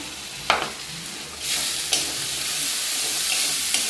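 Prawns fry with turmeric and chili powder in a pan, a steady close sizzle with a few sharp stirring scrapes on top.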